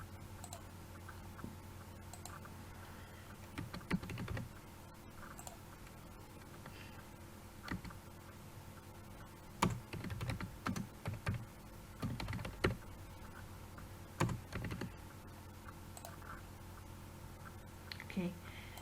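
Computer keyboard typing in short clustered bursts of clicks, moderately close, with quiet gaps between entries and faint background hum.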